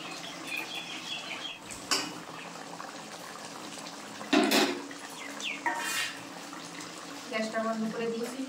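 Mustard bhola fish curry poured out of a pan, with scattered metal clinks and scrapes of utensils against the pan and a soft liquid slosh, while a person talks.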